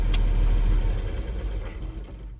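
A farm tractor engine idles during a corn harvest, a low, steady rumble close by that holds even for a couple of seconds before easing slightly toward the end.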